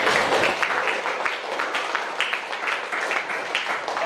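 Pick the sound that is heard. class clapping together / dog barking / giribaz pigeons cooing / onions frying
class clapping together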